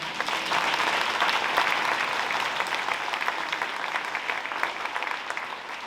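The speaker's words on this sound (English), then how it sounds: "So another round of applause." An audience applauds after a school band piece at a concert, a thick, steady wash of many hands clapping together at a constant level throughout.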